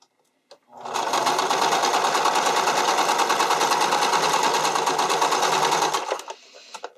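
Sewing machine stitching elastic onto a bikini top, a fast steady mechanical whir with rapid needle clatter running about five seconds after a brief click, then stopping abruptly.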